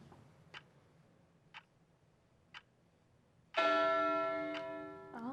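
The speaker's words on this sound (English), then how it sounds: "start the timer to show you the timing sounds" Game timer for a tabletop game show, sounding a sharp tick roughly once a second, three times, followed by a loud ringing bell chime that sustains and decays, with another tick and a second chime near the end.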